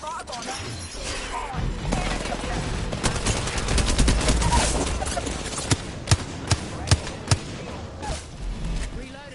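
Gunfire in an Apex Legends match: dense, rapid bursts of automatic fire and impacts, then several loud separate shots toward the end, with voices talking over the fighting.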